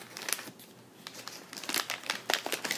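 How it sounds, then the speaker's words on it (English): Wrapping paper crinkles and tears as a package is opened, a run of close, crisp rustling bursts that grow busier toward the end, with no talking. "I'm going to try to keep the wrapping paper if I can."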